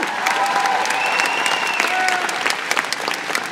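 A live audience at VidCon applauds and cheers steadily, dense clapping filling the whole stretch with scattered whoops rising over the crowd noise.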